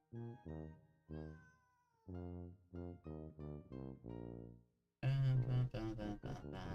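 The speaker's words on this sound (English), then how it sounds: "the cat noises that are coming out of the song are interesting" Cat meows sung as the melody of a song, a run of stretched, pitched meow notes one after another with pauses between, ending in a louder, brighter burst of layered meowing.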